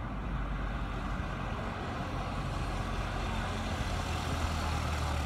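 A bus on a town street in Pljevlja, Montenegro, gives a steady heavy engine rumble with broadband road noise, holding a constant close drone throughout without clear rise or fade and with no voices.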